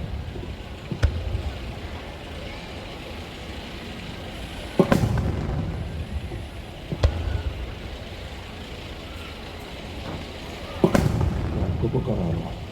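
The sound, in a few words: gin (silver) fireworks exploding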